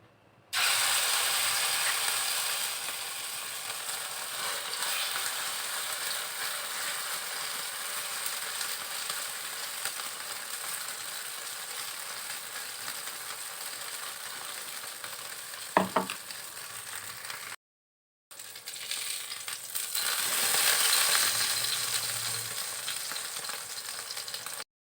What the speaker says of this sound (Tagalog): Prito na tayo ng ating ukoy.